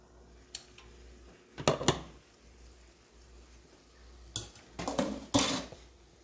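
A lid goes onto a simmering pot, with a few quiet metallic clanks and scrapes in two short bursts against a faint background hum.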